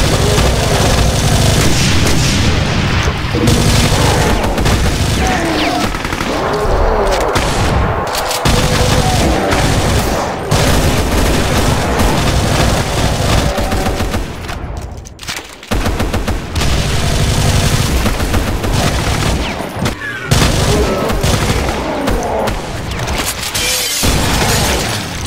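A submachine gun in Brutal Doom fires loud, sustained rapid bursts, layered with booming impacts and shattering debris, with only brief pauses and no voices.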